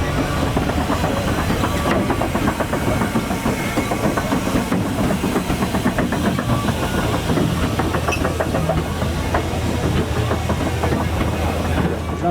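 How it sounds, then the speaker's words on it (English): A steam showman's engine converted from a steamroller at a steam and vintage show: loud continuous hissing steam with a rapid rhythmic mechanical chuffing and clatter, a low rumble running throughout. "This particular one started its life as a steamroller and has been converted to a showman's."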